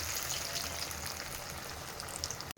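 Corn vadas (maize fritters) frying in hot oil, a steady close crackling sizzle throughout with a brief sharp clatter near the end.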